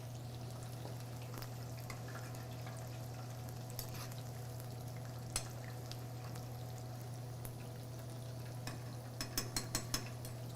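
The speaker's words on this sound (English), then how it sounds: "While this is frying" General Tso's chicken fries in oil at a low temperature, a soft, steady sizzle with faint stirring and a few light clinks of utensils toward the end.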